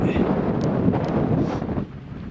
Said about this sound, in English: Windy, as you can see, the wind doesn't bother me.